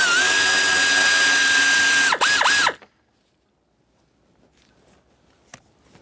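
A power tool loosens a blower motor mounting bolt under the dash of a 1994-1997 Honda Accord: a loud, steady motor whine runs for almost three seconds, dips twice as it strains, then cuts off, leaving a quiet background with faint clicks.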